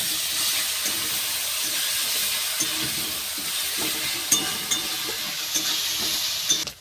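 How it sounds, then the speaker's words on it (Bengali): Onion paste, hand-ground on a grinding stone, fries in a pan for a Bihari-style chicken masala, with a steady close sizzle and repeated scraping strokes of the spoon stirring it throughout. "দিয়ে আবার কিছুক্ষণ আমি পেঁয়াজ বাটাটা ভাজা করে নেব"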